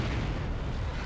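In Company of Heroes 2, an artillery shell impact lands as a single loud, dense rumbling blast that fills the whole short moment with heavy low-end roar.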